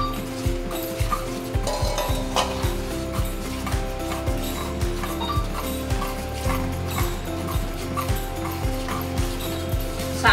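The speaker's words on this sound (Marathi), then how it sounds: "सारखं आपल्याला ढवळत राहायचं आहे, नाहीतर खाली लागेल." Peas and finely chopped cauliflower for pav bhaji are stirred in a pan, with regular scraping clicks of the spatula repeating in a steady rhythm over a constant droning mechanical hum.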